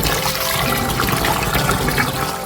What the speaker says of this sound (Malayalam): ഇത് കഴുകി വൃത്തിയാക്കി വെള്ളത്തിൽ വാലാൻ വെക്കണം കേട്ടോ.